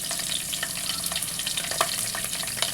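Whole spices such as bay leaf, cloves and chillies frying in hot oil for egg biryani, a steady close sizzle with light crackles throughout, no talking.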